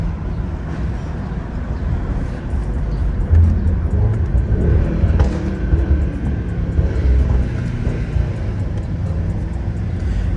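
A UPS delivery truck drives past on a road with a loud, steady low rumble that swells slightly midway and then carries on without a break.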